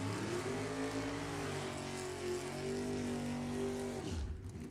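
A 1968 Camaro and a 1962 Chevy II drag racing at an NHRA nostalgia event, loud engines roaring with rising revs as the cars launch, sustained for about four seconds before cutting off sharply.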